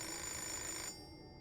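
A telephone rings in the video game Fahrenheit: a bright, steady electronic ring that fills most of the clip, then cuts off abruptly just before the end, leaving quiet game ambience.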